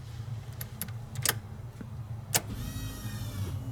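A Nissan Skyline GTR with a new Optima Yellow Top battery cranks over. A low mechanical churn and scattered clicks give way to a rising electric whir from the fuel pump, heard close in a quiet garage.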